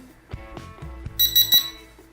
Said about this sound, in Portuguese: Vocês ouviram o bip